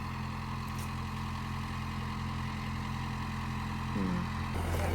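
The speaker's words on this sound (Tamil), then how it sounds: "டிராக்டர்." A tractor engine runs on an apple farm, a steady low rumble holding at an even level throughout with no pauses.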